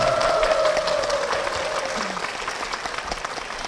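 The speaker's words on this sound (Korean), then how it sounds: "담임 목사님과 교회를 위해서 힘찬 박수 부탁드리겠습니다" A Korean holiness church congregation gives a hearty round of applause, dense and steady at first and gradually thinning, with a faint sustained tone underneath.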